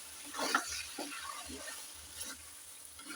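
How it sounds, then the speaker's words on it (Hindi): Spoon stirring whisked yogurt into a simmering potato and eggplant curry over a low flame: soft, quiet scraping and wet stirring strokes repeated in a loose rhythm, with a faint sizzle beneath. "मिक्स करते हैं।"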